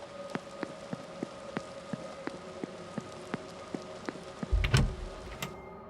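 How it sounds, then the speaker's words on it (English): Steady rain patters down in a game set at a supernatural manor, with regular tapping drops and a soft background wash, plus a brief louder thud near the end. "Getting soaked in the rain, man."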